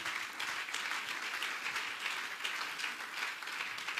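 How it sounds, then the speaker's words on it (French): Audience clapping at an evening gathering, a steady, moderately distant burst of applause sustained for a few seconds with no voices over it. "Can you clap for him?"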